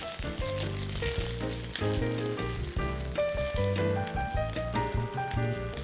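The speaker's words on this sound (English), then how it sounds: "Let's move on to red onions or shallots" Red onions browning in coconut oil with popping mustard seeds, a steady loud sizzle with crackles throughout, alone with no talk, under a layer of background music.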